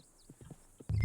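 A horse's hooves clop quietly a few times in the Red Dead Redemption 2 game, followed by a sudden louder low rumble at the end.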